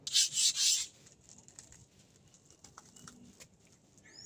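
A few quick, harsh rubbing strokes of sandpaper on a wooden door up close, sanding by hand, followed by quieter faint scraping and handling noises.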